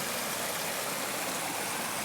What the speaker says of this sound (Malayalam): ആറിൽ നല്ല ഭംഗിയായിട്ടൊരു വെള്ളച്ചാട്ടമുണ്ട്